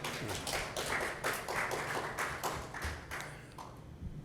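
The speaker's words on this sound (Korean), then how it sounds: "박수로 한번 환영하겠습니다" A church congregation applauds to welcome a newcomer, producing a dense patter of many hands clapping together that holds steady and then thins out toward the end.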